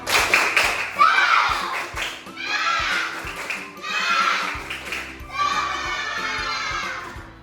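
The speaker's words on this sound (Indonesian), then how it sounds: "kita harus tepuk semangat dulu. Tepuk semangat." A primary school class chants and claps together in rhythmic bursts, four lively rounds of patterned clapping and voices separated by brief pauses.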